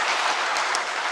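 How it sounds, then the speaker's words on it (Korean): A church congregation claps together in dense, steady applause that fills the room throughout the short moment. "우리 큰 박수로 축하하시기 바랍니다"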